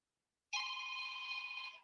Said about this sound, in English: Sorry, my phone's going. I just need to switch it off.